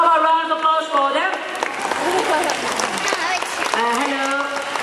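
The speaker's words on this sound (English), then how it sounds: "How about a round of applause for them?" Crowd at a parrot bird show in a Singapore park applauding, a short patter of clapping under a presenter talking, with bird calls over it.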